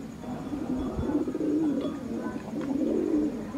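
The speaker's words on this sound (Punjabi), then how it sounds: "ਆਹ ਕਬੂਤਰੀ" Pigeons coo continuously nearby in soft, throaty, rolling calls that overlap one another, with no talking.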